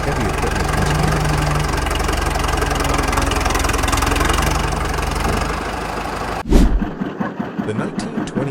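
Vintage Caterpillar D7 bulldozer diesel engine running at a steady, loud idle with a rough, knocking rumble, then an abrupt sharp bang followed by an uneven, sputtering pulse as the running changes.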